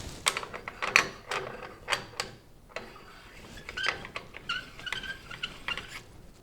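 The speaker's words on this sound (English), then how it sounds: "all you really need to do is take the castle nut off. Let's spin that off real quick." A castle nut spun off a camera mount makes a run of quick metallic ticks and clicks, close and fairly crisp, thinning into lighter rattling toward the end.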